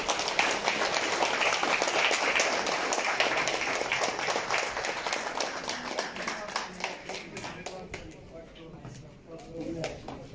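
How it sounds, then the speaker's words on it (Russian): A crowd at a boxing tournament claps rhythmically for a world boxing champion, with sustained applause that thins out toward the end while voices talk over it. "И прошу под аплодисменты."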